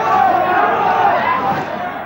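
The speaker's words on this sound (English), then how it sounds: "the volume of abuse from the crowd rose to a deafening pitch" Crowd shouting abuse as a suspect is bundled across a pavement into a police van, a loud dense roar of angry voices, close and sustained, easing slightly at the end.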